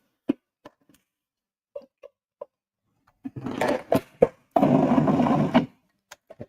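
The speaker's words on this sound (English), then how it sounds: "I'm just going to give this a mix and one more quick blend before it goes into the tray" A blender gives chocolate cherry cookie dough two quick pulses, one short burst and then a longer steady whir of about a second, preceded by scattered small clicks and knocks.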